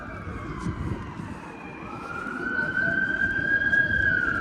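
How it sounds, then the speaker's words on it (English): Emergency vehicle siren on Yonge Street at Yonge and Dundas in downtown Toronto, a steady rising wail that grows louder and closer over busy street noise and traffic rumble. "it's not Yonge and Dundas without freaking sirens"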